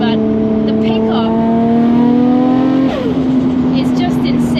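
A 900 bhp four-wheel-drive Nissan R34 GTR pulls hard, its engine note climbing steadily through the revs before a gear change drops the pitch and it builds again, loud and close from inside the car.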